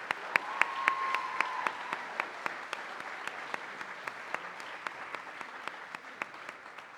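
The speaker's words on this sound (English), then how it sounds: "And another round of applause," Sustained audience applause at an award ceremony, many people clapping evenly with crisp nearby claps punctuating the crowd sound, holding steady for several seconds.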